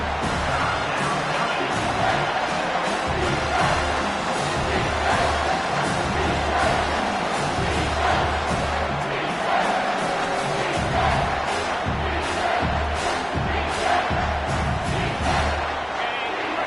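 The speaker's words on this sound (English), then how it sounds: "This crowd is trying to inspire this defense to make a big red zone stop." A packed football stadium crowd in a college football video game roars continuously, a dense, steady wall of cheering and shouting with faint commentary underneath.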